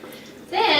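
Cold tap water starts running at a kitchen sink over drained pinto beans, a sudden gushing splash halfway through after a quiet moment.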